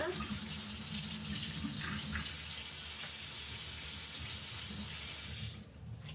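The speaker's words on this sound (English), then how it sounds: "I'm going to go rinse this out under water to get the red out of the tip" A paintbrush loaded with red watercolour paint is rinsed under a running tap: a steady, close stream of water splashing into a sink that runs evenly for about five and a half seconds, then cuts off abruptly.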